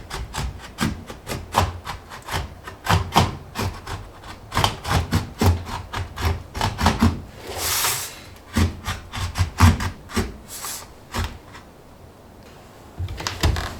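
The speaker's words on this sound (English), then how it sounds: "I'm gonna start by just trying to score and snap it with a knife" A utility knife scores and cuts aluminum siding on a mobile home rebuild, producing a long run of rapid, rhythmic scraping strokes, close and fairly loud, with a brief longer rasp partway through and a quieter stretch near the end.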